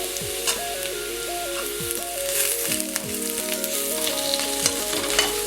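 Crushed ginger, garlic and pepper sizzle in a pan for a Kerala-style tomato fry, a steady close frying hiss broken by stirring scrapes, with music playing in the background.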